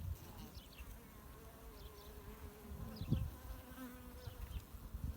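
A faint, continuous buzzing of many honeybees around a laying queen fills the background, a low droning hum with no voices.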